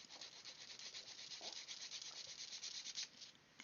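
A small sander rasps in quick, rhythmic scratchy strokes against the wing frames of an Avro Vulcan model, close and fairly faint, with no talking.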